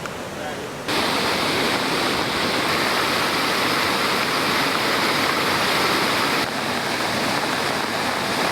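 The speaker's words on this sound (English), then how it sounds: "The Nilwala River as well as the Kiramara Oil Reservoir have started to overflow amidst heavy rains" Nilwala River overflowing amid heavy monsoon rains in Sri Lanka, a loud steady roar of rushing floodwater that swells in abruptly after a quieter start and holds constant.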